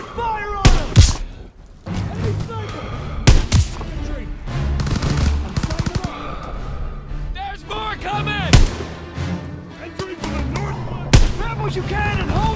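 Heavy World War II battle gunfire in Call of Duty WWII: dense rifle and machine-gun bursts with sharp, loud shots and thuds throughout, under shouted soldier voices.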